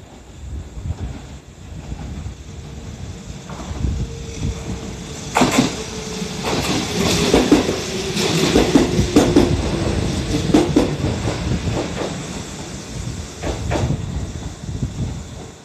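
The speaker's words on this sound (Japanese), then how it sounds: "A local train bound for 鳥羽is arriving at track 8." A Kintetsu 1201 series local train pulling into Matsusaka station: rails rumble and clatter under it, with repeated sharp clacks and squeals from the wheels as it rolls in and slows, moderately loud and close.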